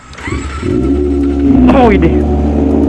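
A Kawasaki ZX25R motorcycle with an SC Project exhaust revving up loudly close by on a village street, the engine rising in pitch over a steady idle, with someone speaking over it.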